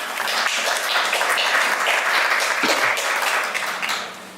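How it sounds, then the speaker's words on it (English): A conference audience claps for a speaker named Nathan, a steady wash of applause lasting about four seconds that tapers off at the end. "Big round of applause to Nathan, please."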